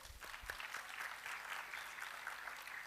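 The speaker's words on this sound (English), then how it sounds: "Let's give the teams a big round of applause" Audience applause for competition teams at an inter-college environmental public speaking competition, a steady, fairly faint wash of clapping from a crowd with no talk over it.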